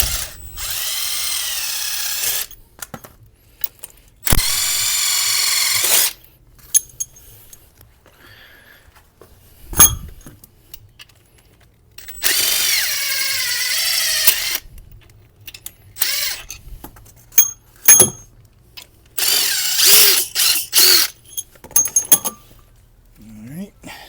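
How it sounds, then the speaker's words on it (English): Power tools remove the head bolts from a Subaru STI engine on an engine stand, with several loud whirring bursts of a few seconds each, separated by quiet gaps, brief clicks and clanks, and some talking. "So let's take these head bolts back out."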